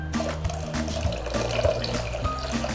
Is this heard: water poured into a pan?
yes